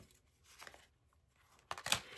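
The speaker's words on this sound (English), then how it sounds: "I'll ruffle shuffle them in again some more." A deck of playing cards is riffle shuffled close up and quietly, with a soft papery flutter midway and a sharper, louder burst of crisp card riffling near the end.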